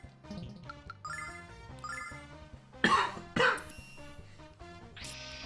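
Two sharp, close coughs burst out about half a second apart from a streamer playing Lunar: Silver Star Story, set against soft melodic game music that carries on throughout.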